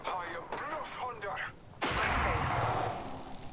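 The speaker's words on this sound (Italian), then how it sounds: "Uno che mi arriva da qua sotto che mi spara." Gunfire in the Apex Legends battle royale, a loud sustained burst of shots following a player's speech, continuing as rough clatter near and dense for the remaining seconds.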